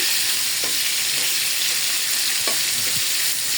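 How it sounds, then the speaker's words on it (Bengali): Rohu fish frying in a wok gives a steady, close, loud sizzle of hot oil, with a few brief crackles and spatters rising out of it and no talking. "মাছ ভাজার জন্য কড়াইতে দিয়ে দিলাম।"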